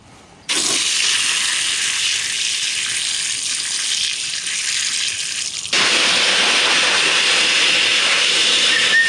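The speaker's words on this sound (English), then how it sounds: "We'll use the hose again here. Give them a rinse." Water hose spraying and rinsing engine valve cover bolts from an MK4 Volkswagen GTI, a loud steady gushing hiss that starts abruptly, runs continuously, and shifts to a brighter, stronger spray partway through.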